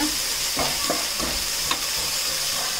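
Ginger garlic paste frying in a pan while being stirred, a steady close sizzle with a few soft scraping strokes and no talking.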